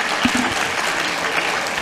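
Audience at a health and ecological transition forum claps in steady, dense applause throughout, a full room of hands without pause.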